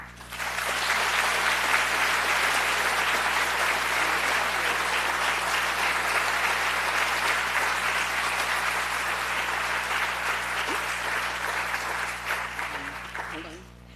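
Steady, dense audience applause at a lecture welcoming artist Maya Lin, sustained loudly for about thirteen seconds before tapering off at the end.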